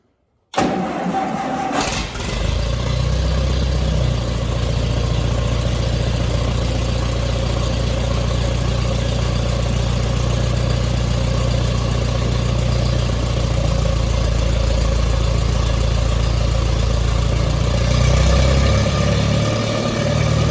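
An old Allis-Chalmers D17 tractor engine cranks briefly and then catches, settling into a loud, steady low rumbling idle that runs on alone for the rest of the clip.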